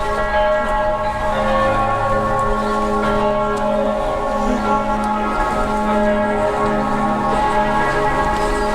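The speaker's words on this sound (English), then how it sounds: "We could actually hear these bells from the campsite this morning" Church bells in Salzburg, Austria peal continuously in a steady, layered ringing, full and resonant throughout, with no voices over them.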